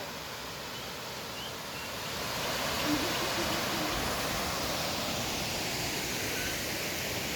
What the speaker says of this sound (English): There is this gorgeous waterfall. It's really loud.